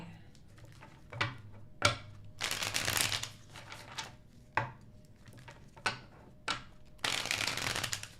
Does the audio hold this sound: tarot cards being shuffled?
yes